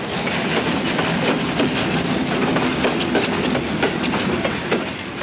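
A small-scale model 141R steam locomotive runs along its track, giving a steady, close rhythmic clatter of wheels with a continuous hissing wash and no talk.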